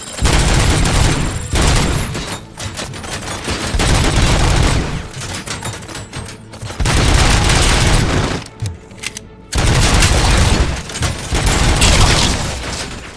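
Heavy anti-materiel rifle and LMG fire in a RoboCop video game, loud dense bursts of rapid gunshots in long volleys broken by brief pauses, close and dominant with no talk.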